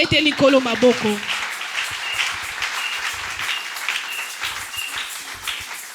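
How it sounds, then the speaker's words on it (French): A church congregation applauds at a Sunday service, a burst of clapping that starts loud and tapers into lighter scattered claps, with a voice speaking over the first moments. "On applaudit pour le Seigneur."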